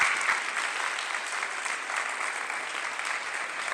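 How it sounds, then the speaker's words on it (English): An audience claps steadily for a few seconds at a spring signing-day ceremony for athletes, dense sustained applause of a sizable crowd at even loudness throughout. "So big round of applause for that."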